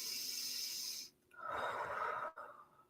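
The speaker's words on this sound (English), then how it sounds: "So deep breath in." Deep breath in during a guided breathing exercise: a soft, close airy hiss and then a longer, fuller inhale, quiet and alone with no speech.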